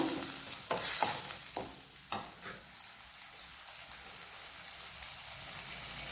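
Green beans frying in a pan, a soft steady sizzle with a few sharp clinks of a utensil against the pan early on, then an even hiss.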